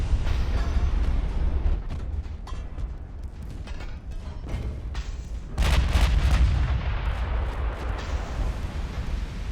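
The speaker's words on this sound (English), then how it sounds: "Wyoming has a nice broadside." Heavy battleship gunfire from the Wyoming in Ultimate Admiral: Dreadnoughts: a continuous deep rumble of booming shots, with a louder burst of blasts about halfway through, close and loud with no talk.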